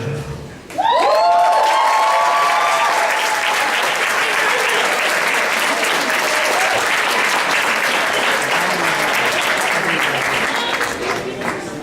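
Crowd at a student masquerade event bursts into loud, sustained applause after a singing performance, clapping steady and dense for over ten seconds, a few whoops and a voice rising at the start before fading slightly.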